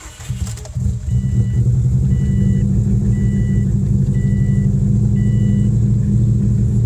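Turbocharged AWD car engine rumbling loudly at close range, a steady heavy idle with deep low-end growl that settles in after a brief rough start, no voices.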